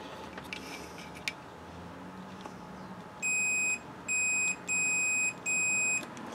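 A multimeter in continuity mode beeps while its probes touch the leads of a KitchenAid dishwasher switch, four sharp high-pitched electronic beeps in quick succession, close and clear over a quiet room.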